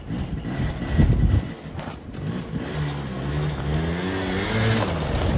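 A quad bike engine running and revving, a mid-pitched drone that rises and settles, with a short burst of throttle early on and a steadier climbing rev toward the end.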